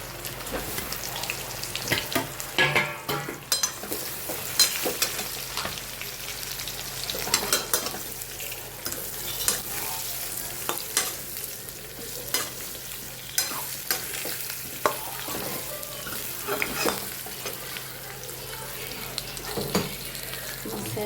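Cut raw patra tempered and fried in a pan sizzles steadily while a utensil stirs and scrapes in repeated strokes, close up and fairly loud throughout.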